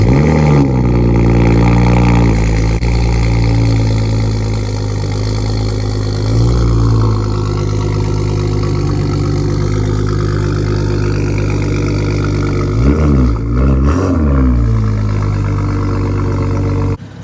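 A BMW M235i with a catless downpipe idling, a deep steady droning exhaust note, close and loud, with brief blips in pitch early and near the end.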